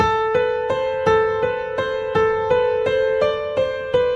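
A simple piano melody of evenly spaced single notes, about three per second, ringing clearly and repeating a short pattern with no voices.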